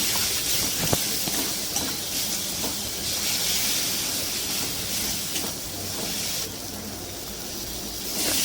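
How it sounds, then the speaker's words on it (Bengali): Spice paste frying in a pan with a little water added, a steady broadband sizzle and hiss throughout, fairly close and even, with no talk. "আর একটুখানি জল দিতে হবে ভালো করে আবার মশলাটা ভাজতে হবে ভালো করে কষিয়ে নিয়ে"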